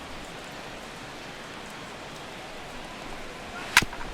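Steady, even hiss of rain falling on a ballpark in the MLB 16: The Show baseball game, a constant wash of soft noise with one short sharp crack near the end.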